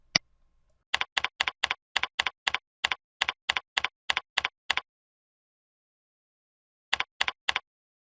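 Quick, crisp keystrokes on a computer keyboard entering an address, a steady run of about twenty clicks, a pause, then four more, close and clean against silence.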